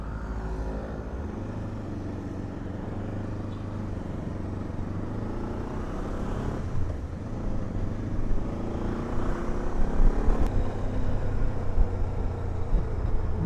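Zongshen Cyclone RX3s motorcycle being ridden, a steady engine drone with wind noise that grows slightly louder and rougher as it picks up speed, no talk.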